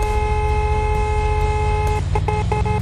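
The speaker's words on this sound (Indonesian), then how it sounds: "Klakson, klakson." A car horn honks in a video game, a steady tonal blare over game background noise that breaks into several short toots near the end.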